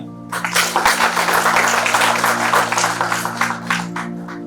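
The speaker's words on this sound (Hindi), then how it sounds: "जोरदार तालियां।" Audience applause at a stage event, a burst of clapping of moderate loudness lasting a few seconds over a steady electronic hum from the hall's sound system.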